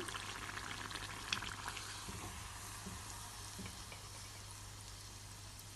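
Handesh sweets deep-frying in hot oil for Eid, a soft, steady bubbling sizzle with a low background hum, quiet and continuous throughout.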